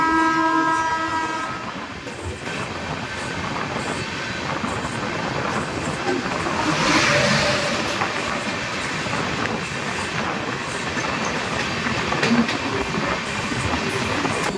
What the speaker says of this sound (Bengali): এখন আমরা অতিক্রম করছি কল্যাণী শিয়ালদা ও লালগোলা প্যাসেঞ্জার